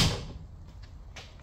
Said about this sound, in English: The door opens. Jeez, and closes like it should.